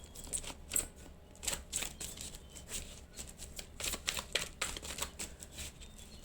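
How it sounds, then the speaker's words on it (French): A deck of tarot cards is cut and handled on a table, making soft, irregular papery flicks and riffles in quick bursts, quiet and close, with no voices. "Je vais quand même faire une coupe de ce jeu-là"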